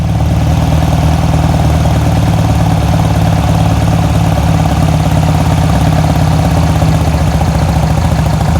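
A 1972 VW Beetle with a dual carb engine idling low and steady, a loud, continuous rumble with even throbbing pulses close up.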